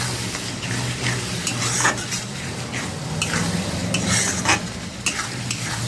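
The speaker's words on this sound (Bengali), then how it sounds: "দু মিনিট ভালো করে কষে নেব।" Masala for a chicken curry is stir-fried in a pan, rhythmic spatula scrapes and clinks over a constant close sizzle, with louder strokes every second or so; no one speaks.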